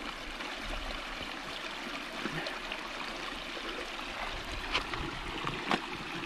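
Fast-flowing mountain stream on the Pike of Blisco in the Lake District, a faint, steady rushing of water with occasional small splashes and clicks, fairly distant and unbroken.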